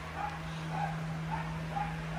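A dog barks repeatedly inside a horse barn on a large Kentucky horse property, the barks sounding somewhat distant and muffled over a steady electrical hum.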